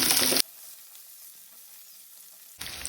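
Cloves, black pepper, cardamom and green chillies frying in a pan for Goan masala rice; a loud, bright sizzle opens the moment, drops to a quiet hiss, then flares up strongly again at the end.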